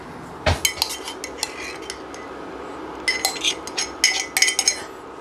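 A spoon mixing vegan ginger cake batter in a bowl, bright clinks and scrapes of metal against the bowl coming in quick bursts, close and fairly loud, with quieter gaps between rounds of stirring.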